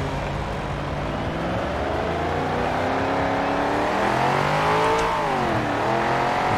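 In Forza Horizon 4, driven with a steering wheel, a car engine drones steadily and then climbs in pitch as it accelerates before dipping and rising again, loud and continuous with no talking.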